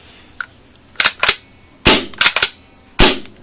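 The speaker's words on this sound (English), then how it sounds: "Overall, this is probably the best pump gun that I've shot." A pump paintball gun fires a series of sharp, loud pops in irregular groups, some shots coming in quick pairs or triplets, each with a short ringing tail.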